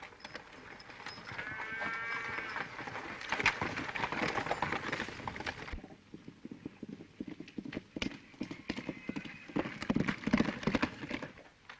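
A bucking horse in a 1930s Western, hooves clopping and thudding irregularly alongside rattling and rumbling, with a burst of whinny-like sound early on, at moderate volume.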